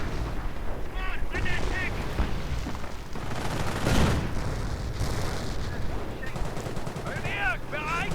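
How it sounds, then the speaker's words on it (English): Flak guns blast away amid a busy battle in the strategy video game Company of Heroes, with dense overlapping bursts of gunfire and booms rumbling continuously throughout. "Flak blasting away as usual."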